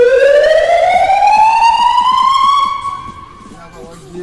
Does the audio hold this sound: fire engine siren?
yes